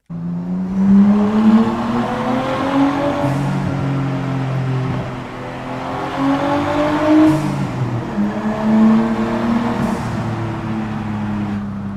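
A Nissan Skyline R33 drives through a tunnel, its turbocharged engine droning loud and reverberant. The engine pitch rises and falls across three repeated pulls, and a brief hiss from the turbo blow-off valve follows each one.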